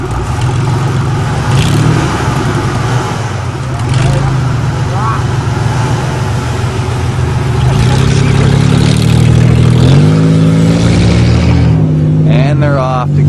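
Engines of a custom van and a full-size Ford van rumble and rev loudly side by side before a drag race, a steady low drone rising in pitch toward the end, with people talking over it throughout.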